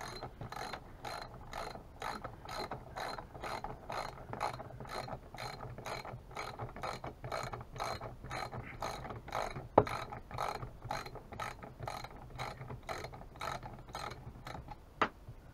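A socket ratchet clicks in a fast, steady series of pawl ticks while parts are removed from a chainsaw engine, with two sharper knocks partway through and no talking.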